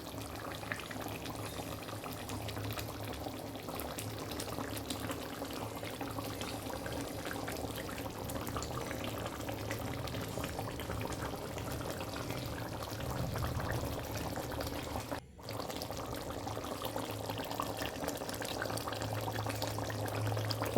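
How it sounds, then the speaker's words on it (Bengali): Chicken curry meat simmering in a pot after a little water is added, a faint, steady bubbling hiss that continues unbroken for about twenty seconds apart from one brief dropout. "ভালোভাবে মাংসটা কষিয়ে নিয়ে দিয়ে দিলাম সামান্য পরিমাণের জল দিয়ে মিনিমাম 5 মিনিট মতন ফুটিয়ে নেব"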